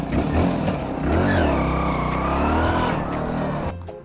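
A motor vehicle's engine catches and runs just after starting, a close rumbling idle that rises and falls in pitch with a few revs before cutting off abruptly near the end.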